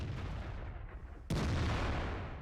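A single loud tank gun blast in World of Tanks, mid-battle against IS-4 heavy tanks, hits abruptly after a quiet stretch and is followed by a sustained rumbling roar.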